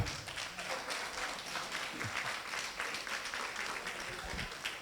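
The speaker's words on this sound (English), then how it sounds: "You can still clap." An audience at a law school alumni reunion and industry night claps together, a dense, steady patter of many hands that holds evenly throughout at moderate volume, with indistinct crowd murmur mixed in.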